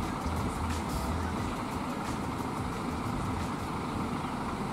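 A Scania bus with a JRG Kingsman body maneuvers into a parking position, its engine giving a steady, close, loud diesel rumble throughout, with no one talking.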